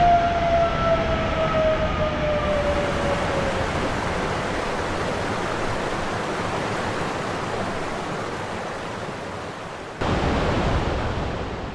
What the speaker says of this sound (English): The waterfall cascades down from a significant height, creating a mesmerizing display of water gushing over the rocky terrain.